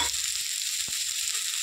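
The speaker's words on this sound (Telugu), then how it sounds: "ఈ లైట్ ఫ్రై అవుతుంది కదా." Onion lightly frying in a pan for a country chicken curry masala, giving a steady, close hiss of sizzling oil with faint soft scrapes, no voices.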